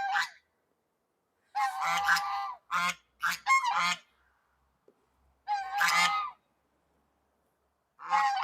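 Geese honk in several loud, nearby bursts separated by short silences.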